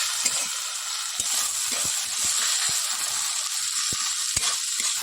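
Ginger paste and chopped tomato fry in a hot pan as the base masala for a Bengali crab curry, giving a steady close sizzle and hiss with scattered sharp spatters and pops.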